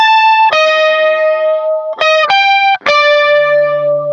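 A distorted electric guitar plays a riff with hybrid picking: several ringing, effect-laden note pairs, sustained and struck in a short uneven rhythm, close and loud with no talk.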